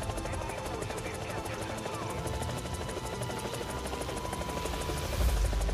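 War Thunder G-Lynx helicopter with a steady close engine whine and rotor drone running continuously, slightly louder at the very end, with no talk.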